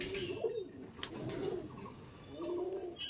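Pigeons coo softly in a village pigeon loft near Basirhat, several low rolling coos repeating close by, with faint chirps and wing stirrings between them.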